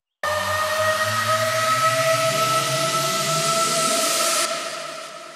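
A bright noisy upward sweep effect from a KSHMR-style progressive house project rises steadily for over four seconds over steady tones, then cuts back and fades out.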